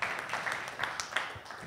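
Audience applause for a bassist and singer at a live home music session, steady broadband clapping lasting throughout at moderate distance, with a few louder claps standing out.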